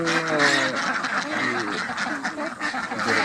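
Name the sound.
ducks on a duck farm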